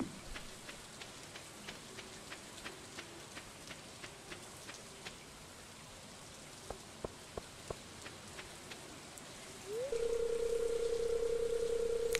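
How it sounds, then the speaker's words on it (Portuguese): Rain falling in the farming video game Stardew Valley, a soft steady patter with faint regular ticks, joined near the end by a loud sustained electronic tone. "E tome chuva."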